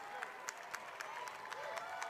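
Monday night basketball arena crowd at the Coliseum applauding as Long Island's Nets close out a 115-107 win over Grand Rapids, steady clapping with scattered sharper claps, faint and distant throughout.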